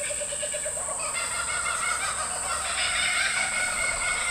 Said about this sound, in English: That's the Australian kookaburra laughing at me again.